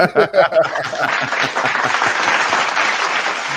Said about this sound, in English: Hit him one time with the hand clap.